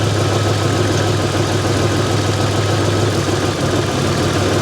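Buick Grand National engine idling steadily with its RPM being adjusted, a continuous close mid-low engine hum with a steady tone and no talk.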